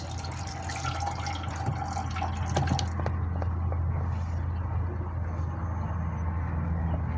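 Three large summer squashes are washed under running tap water, a steady close splash and trickle that continues throughout.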